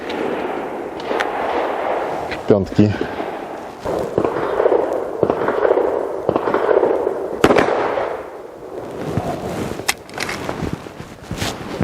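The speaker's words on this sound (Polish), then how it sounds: "ile potrzeba strzałów, żeby strącić to pudełko" Sharp 9mm and .45 ACP pistol gunshots crack out irregularly outdoors at box targets, some close and loud, others softer, over a constant background rush and a brief spoken word.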